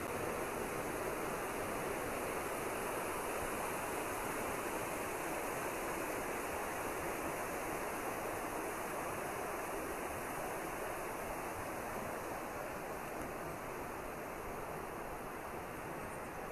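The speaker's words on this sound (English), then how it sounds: "This here is actually quite noisy. You can see I'm standing almost in the middle of the river." Rushing river water close around a person standing almost mid-stream near the Reekie Linn waterfall, a steady, dense roar that holds unbroken and loud throughout with no voices.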